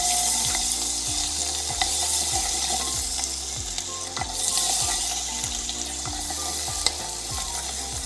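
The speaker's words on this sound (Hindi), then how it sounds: "कुकिंग ऑयल और मक्खन गरम कर लेना है और इसमें राई दाना, सौंफ, कलौंजी और मेथी दाना डालकर इसको क्रैकल होने देना है।" Mustard, fennel, nigella and fenugreek seeds crackle in hot cooking oil and butter, a constant close sizzle dotted with sharp pops, joined by a regular repeating scraping or stirring rhythm.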